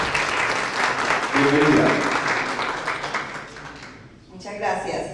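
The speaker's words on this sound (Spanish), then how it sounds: "fuerte el aplauso" A room full of people claps loudly, swells, then fades out, and a voice speaks briefly as the applause dies down.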